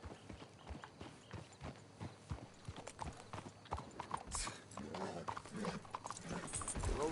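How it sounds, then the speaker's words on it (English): Steady clip-clop of horse hooves at a walking pace in Red Dead Redemption 2, close by, with creaking and rustling underneath and some background ambience. "Let's hitch the horses up ahead."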